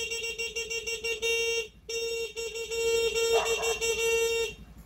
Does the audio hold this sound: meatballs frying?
no